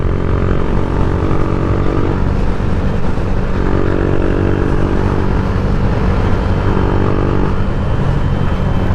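A Yamaha Sniper 150 motorcycle engine rumbles loudly and steadily through its exhaust pipe, a deep continuous drone with a slight rise and fall in pitch, close by and without speech.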